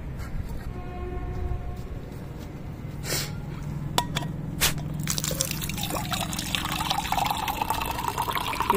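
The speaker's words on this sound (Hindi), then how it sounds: "यहाँ से मैं पानी भर लेती हूँ पहले।" Water runs from a tap into a small metal pot, starting as a thin trickle and building into a louder, steady splashing fill.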